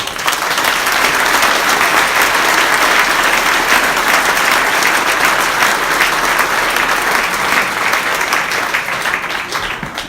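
Sustained applause from a large crowd at a village patron-saint festival speech in Péone, France, dense and loud throughout, easing slightly toward the end.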